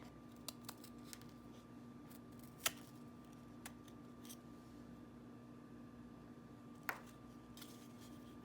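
A piece of gingerbread house is cut to form a chimney, producing a few faint, sparse snips and cracks scattered over a quiet room hum, with one sharper click standing out.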